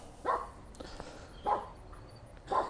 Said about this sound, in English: Crazy dogs today.